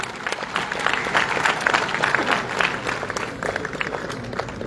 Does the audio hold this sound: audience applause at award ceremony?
yes